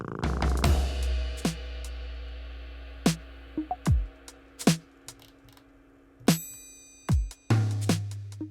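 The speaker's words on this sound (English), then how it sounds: "including this purr, which I'm considering as percussion." Cat purr sampled as percussion in game music, heard as short rhythmic purring hits and clicks spaced irregularly over a quiet tonal bed, alone without voices.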